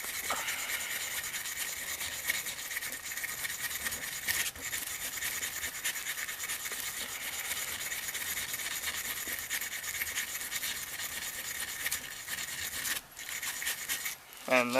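Steady, continuous rasping scrub on a heavily rusted Millers Falls two-speed single-pinion breast drill, close and fairly loud, holding an even rhythm with a brief louder burst near the end.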